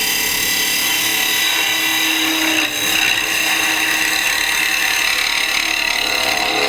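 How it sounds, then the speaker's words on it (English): A bowl gouge rounds over a spinning wooden workpiece on a lathe, producing a steady, loud, close hiss of cutting with only a brief dip in the middle. "now I'm going to grab a bowl gouge here and just start rounding this over"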